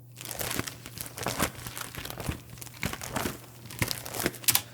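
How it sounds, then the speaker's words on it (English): Foley manual page turns: paper crinkles and rustles repeatedly in quick, irregular handling, close and clear over a low steady hum, with no talking. "And we've also got manual page turns."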